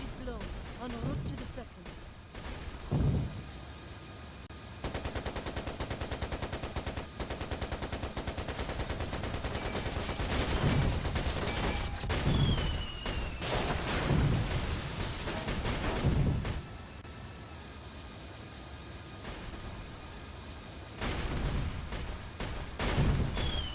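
Machine gun fire from a fighter plane in the combat flight game Air Conflicts Secret Wars, sustained rattling bursts over continuous engine drone, with someone talking throughout.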